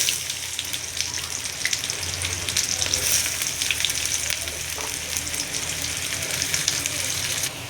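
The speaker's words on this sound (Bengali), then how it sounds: "পেঁয়াজটা ভেজে নিয়েছি" Onion sizzles steadily in hot oil tempered with bay leaf, dried chili and cumin, a dense continuous crackle with no talk.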